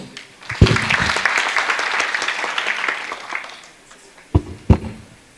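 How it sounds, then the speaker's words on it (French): Audience applause at a conference on industry 4.0 and logistics swells into a strong burst, fades away over a few seconds, then a few last sharp claps ring out near the end. "S'il vous plaît, veuillez l'applaudir très fort"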